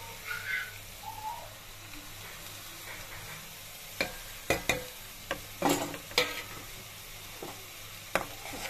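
A spoon stirs red chilli, turmeric and salt into a besan mixture in a pan, with scattered scrapes and taps that grow busier partway through over a low, quiet background.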